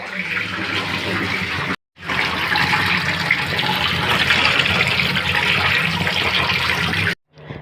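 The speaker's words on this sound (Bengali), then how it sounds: "চলো মাছগুলো এবারে বেছে ধুয়ে নিই" Running water from a tap pours steadily over fish being cleaned for cooking, a dense, continuous rush near the listener, broken by two brief silences.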